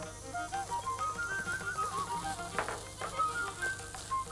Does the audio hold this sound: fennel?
yes